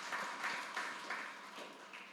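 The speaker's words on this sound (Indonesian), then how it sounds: "Kasih tepuk tangan bagi Tuhan Yesus." Faint congregation clapping in a church service, a short patter of hands that swells in a few soft pulses and stays quiet and distant throughout.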